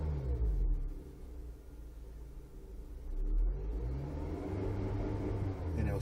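A Honda Civic engine held at revs with the clutch in for launch control, a steady mid-pitched drone that dips briefly and then rises again, close and continuous with no talking.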